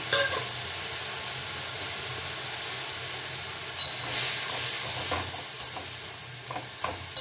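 Chutney ingredients cook in a pan with panch phoron while being stirred, producing a soft, steady sizzle and hiss with intermittent scraping strokes that swell briefly midway, quiet and close, with no voices.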